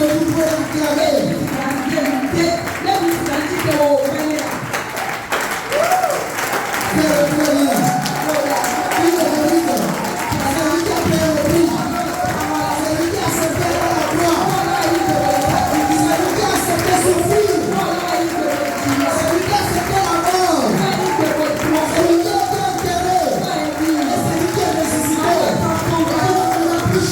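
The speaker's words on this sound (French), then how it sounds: "Est-ce qu'on peut acclamer ce nom-là?" A church congregation applauds and cheers in acclamation of Jesus Christ, a long, loud, steady wash of clapping with shouts and voices rising over it throughout.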